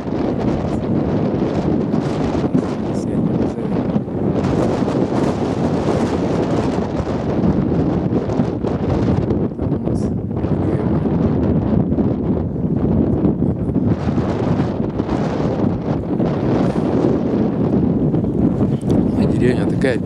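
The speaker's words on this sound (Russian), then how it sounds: "Сегодня сильный ветер." Strong wind buffets the microphone outdoors in a village farmyard in December, producing loud continuous roaring rumble with gusty surges throughout, and a voice talks intermittently beneath it.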